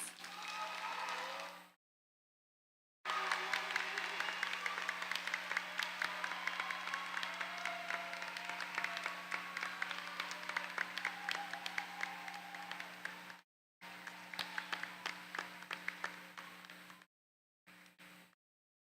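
A crowd at a community college commencement applauds its 2020-2021 graduates with sustained, dense clapping that is cut off by short silent gaps.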